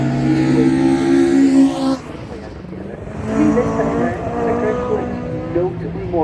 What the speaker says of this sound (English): Now he's accelerating down through put-throughs and up over the chicane that is part of the racetrack.